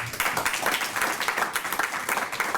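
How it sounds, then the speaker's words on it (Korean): A crowd at a theology seminar claps steadily and loudly, a dense continuous applause with no pauses. "인사할 때 한번 큰 박수를 부탁합니다"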